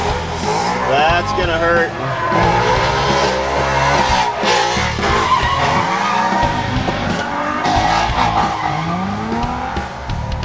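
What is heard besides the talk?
drift cars skidding, Nissan 350Z and Mustang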